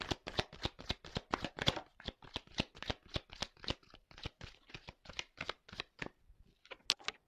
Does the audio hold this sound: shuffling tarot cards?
yes